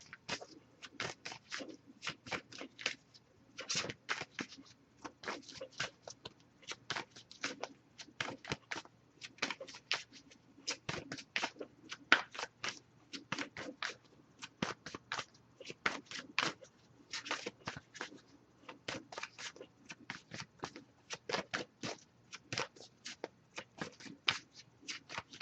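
An oracle card deck being shuffled over and over during a tarot-style reading, soft rapid riffling bursts in an irregular rhythm, close and quiet, with no talking.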